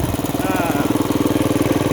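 A mini tractor's small engine chugs steadily at close range with a rapid, even knocking rhythm, loud and continuous throughout.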